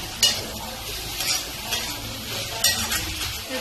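Fish kachori filling being stirred and fried in a pan over a low-to-medium gas flame, with steady sizzling and repeated scrapes and clinks of a spoon against the pan, no talking.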